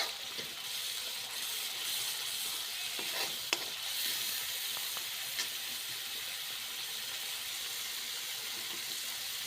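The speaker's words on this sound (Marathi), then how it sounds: "त्यामध्ये कढीपत्ता आणि दळलेले मिरच्या, लसूण वगैरे सर्व त्यांची पेस्ट ती चांगली फ्राय करून घेऊ" Curry leaves, chili and garlic paste frying in a pan give a soft, steady sizzle with a few faint clicks and scrapes, fairly quiet and continuous with no talking.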